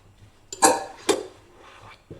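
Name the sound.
mixing fruit and oat bar ingredients in a bowl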